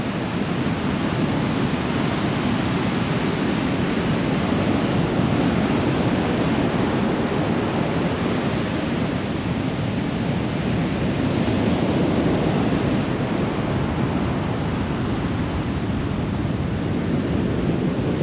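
Ocean waves wash steadily onto Sapphire Beach at Coffs Harbour in Australia on a morning walk, a broad, continuous roar of surf with some wind rumble and no voices.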